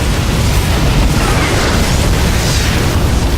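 Siege tank explosions in StarCraft 2, a dense, loud wash of overlapping booms and rumbling blasts that carries on without pause from start to finish.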